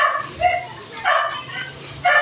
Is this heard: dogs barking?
yes